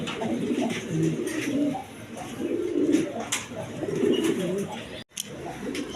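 A pair of coloring Raj Golla pigeons coos in low, rolling, throaty phrases that repeat steadily at close range. A brief sharp drop cuts the sound near the end, and no one speaks.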